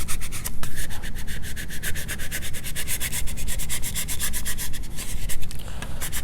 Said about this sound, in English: I'm just going to go ahead and take my scraper tool and just really rub that in there really good.